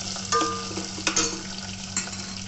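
Tempering spices and dried red chillies crackle in hot oil for pulihora, a steady sizzle with sharp pops and a few stirring scrapes, close and clear.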